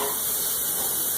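Breakfast sausage browning in a pan gives a steady, close sizzling hiss that holds evenly throughout the short moment, with no voices.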